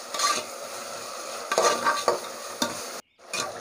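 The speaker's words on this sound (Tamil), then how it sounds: "நல்ல கோல்டன் கலர் வர வரைக்கும் ஃப்ரை பண்ணிடுங்க" Onions for chicken biryani fry in a pan, a close sizzle with bursts of stirring and a spoon scraping the metal, then a brief silent cut before the sizzling resumes.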